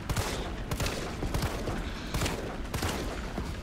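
Dense, continuous gunfire from Resident Evil 3 Remake, with overlapping shots and impacts crackling steadily at close range throughout, loud and unbroken, with no talking.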